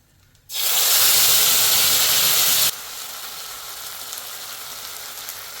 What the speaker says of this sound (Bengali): হালকা ভেজে নিব। এখন দিয়ে দিব বাটা মশলা